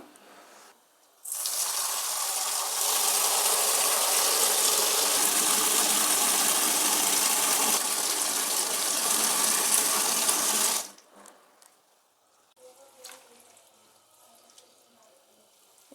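Tap water gushes steadily into a sink for about ten seconds while moringa leaves are washed in a home kitchen, a loud, even rush that stops abruptly, followed by quieter handling noises.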